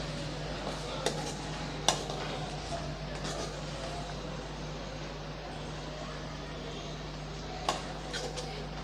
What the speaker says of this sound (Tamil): இப்போ நல்லா லேசாக நல்லா கலந்து விட்டுறலாம்.